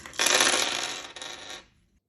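A handful of dice is rolled onto a hard surface during a cash-stuffing budgeting game, giving a loud, close rattling clatter that lasts about a second and a half and then stops abruptly.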